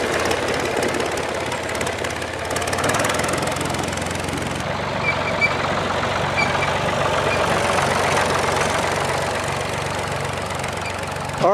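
A tractor runs its PTO on a farm while a fig orchard is being planted, a steady close engine drone with a rhythmic mechanical knock that holds throughout.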